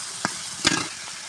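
Pumpkin fries in a pan with a little sugar: a brief burst of steady sizzle with two quick scraping strokes, the second one louder and longer.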